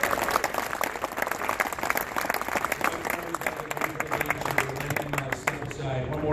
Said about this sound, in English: Trevor Rosenthal. Please give a round of applause.